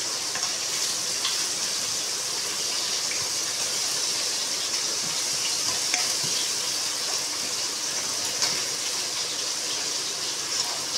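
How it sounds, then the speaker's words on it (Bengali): Pond water gushing and splashing steadily out of freshly cut waterlily stems, a continuous bright watery rush with no voices. "এই যে পুকুরের জলটা বার করে দিলাম"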